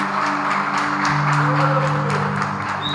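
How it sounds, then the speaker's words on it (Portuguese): A church congregation gives sustained applause, a continuous, even clatter of many hands over a steady held tone in the background. "Vamos aplaudir o Senhor Jesus pelo ministério."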